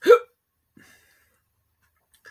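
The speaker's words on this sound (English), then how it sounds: "Hiccups." One sharp, loud hiccup opens the clip, followed by near silence, with only a faint click and a small trailing sound afterward.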